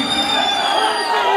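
A wrestling match crowd cheers and shouts in a dense, steady roar that fills the whole moment, with no single voice standing out.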